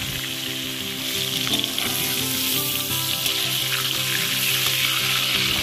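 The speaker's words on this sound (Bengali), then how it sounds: "ওই মাছ ভাজার তেলেই আলুটাকেও একটু ভেজে নিচ্ছি।" Potato pieces fry in oil left over from frying rohu fish, giving a steady, close sizzle that runs throughout, mixed with background music.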